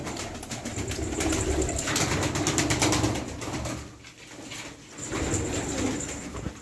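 Twenty pigeons coo softly amid a dense, steady background hum, with occasional wing flutters; no voices.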